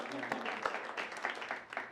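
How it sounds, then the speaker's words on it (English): Steady clapping from an improv comedy audience, a dense patter of many hands with a few louder claps standing out, continuing for a couple of seconds. "You can applaud for them if you want."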